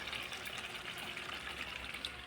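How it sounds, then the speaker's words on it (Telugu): Water is poured into dough for fish curry as a steady, close hissing trickle with no break. "కొద్దిగా నీళ్ళు వేసి దాంట్లోనే ఇంకా పిసికి వేస్తాను"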